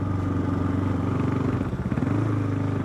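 A Kawasaki KLR 650 dual-sport motorcycle rides along on a freezing February day, its single-cylinder engine droning steadily up close with a slight dip and change in pitch near the end.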